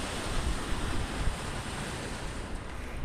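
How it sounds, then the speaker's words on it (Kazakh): Floodwater and mudflow from heavy rain in Mangystau, overflowing the drainage channels and rushing across a road: a steady, dense roar of churning water with no pauses. "Қарғын судың қарқыны қатты болғаны сонша, суағарларға сыймай жолдың үстіне дейін шығып кеткен"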